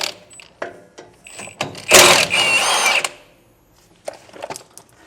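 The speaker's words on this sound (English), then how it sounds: "We're just going to pop those off with a 9/16 socket." A 9/16 socket removes the bolts holding a trailer brake assembly during a Timken wheel bearing replacement. Short ratcheting clicks and taps lead into a louder whirring burst of about a second, then scattered metallic ticks, close and alone.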